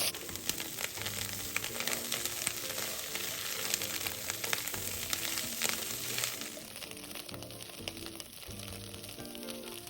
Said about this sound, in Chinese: 然后一起拌炒均匀